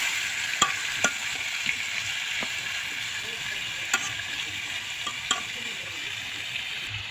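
Marinated chicken pieces frying in hot mustard oil, a steady sizzle with occasional sharp clicks of a utensil against the pan, no talking.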